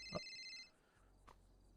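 A phone rings faintly with an incoming call, one short tonal ring that fades out, followed by quiet room noise and a small click.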